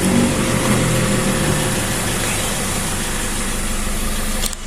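A Toyota Fortuner 2.5 2KD D-4D diesel from 2012 idles steadily with a low, even rumble throughout, recorded close up, ending with a brief click.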